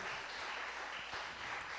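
Congregation clapping during a church worship service, a dense steady patter of many hands that holds at an even level throughout, fairly quiet and without any voices over it.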